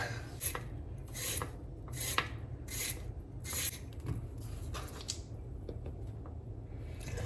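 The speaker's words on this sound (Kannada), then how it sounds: "ಇವಾಗ ನಾವು ನೋಡಿ ಸೌತೆಕಾಯಿ ಕಟ್ ಮಾಡುವ. ಇದರ ಸಿಪ್ಪೆ ತೆಕ್ಕೊಳ್ಬೇಕು." A cucumber is peeled with a knife by hand, giving repeated short scraping, rasping strokes at close range in an irregular rhythm, with no talk.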